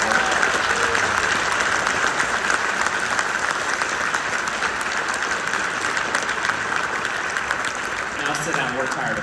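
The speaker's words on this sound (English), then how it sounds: "Please give these students a round of applause for their hard work." An audience at a middle school winter concert gives students a sustained round of loud, dense applause that continues unbroken throughout, with a voice briefly heard near the end.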